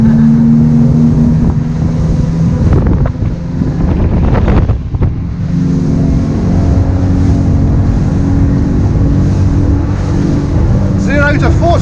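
A Jeanneau Cap Camarat 9.0 motorboat speeds up through rough water, its loud engine roar close to the microphone, buffeted by heavy wind noise and hull slaps, with a voice calling out briefly over it.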